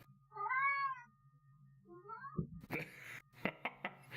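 A cat meows a few times, drawn-out and fairly clear, followed by some knocking and rustling noises nearby.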